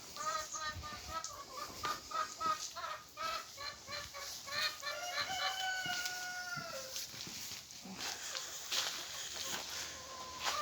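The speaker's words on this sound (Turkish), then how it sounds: "mükemmel bir tavuk kümesimiz var" Hens cluck and warble in a busy chorus inside a village chicken coop built from pallets and wire, with a rooster-like call and scattered rustling throughout.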